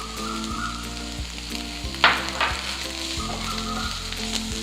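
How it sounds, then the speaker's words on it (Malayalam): Onions sautéing in a pan with crushed ginger and garlic give a steady close sizzle, broken by a few stirring scrapes, with no voices. "നന്നായിട്ട് വഴറ്റിയിട്ട് ഇനി ഇതിൽ ഇഞ്ചി വെളുത്തുള്ളി ചതച്ചത് കുറച്ചിട്ട് കൊടുക്കാം."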